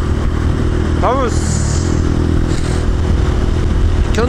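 A Honda Grom motorcycle engine drones steadily up close while riding, with a brief rising whine and some clatter, while someone talks over it.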